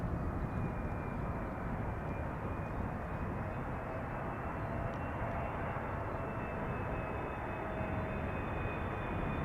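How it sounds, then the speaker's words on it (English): A Turkish Airlines Airbus A330 airliner on the glide slope at Schiphol, a continuous broad engine roar with a faint high whine running through it, holding at a steady, moderately loud level without speech. "there is a Turkish A330 behind it on the glide slope."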